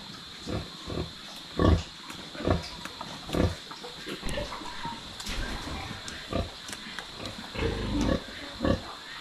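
A sow with newborn piglets grunts and oinks in short repeated bursts, close and fairly loud, with squeals over a steady background hum.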